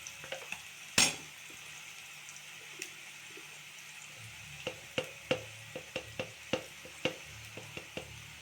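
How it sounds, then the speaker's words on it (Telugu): Onions frying in a pan with curry leaves as ginger garlic paste is added for a chicken curry: a soft steady sizzle punctuated by a loud metallic clank and repeated sharp spoon scrapes and taps against the pot. "ఇప్పుడు అల్లం వెల్లిగడ్డ వేద్దాం."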